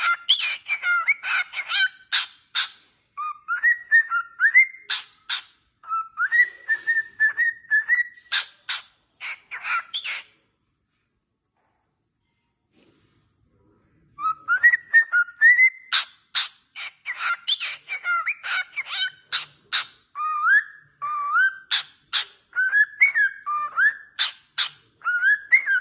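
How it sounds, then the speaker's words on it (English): A cockatoo sings in loud, close bursts of squawks and rising whistled notes, falling silent for a few seconds midway before resuming just as vigorously. "cockatoo sing."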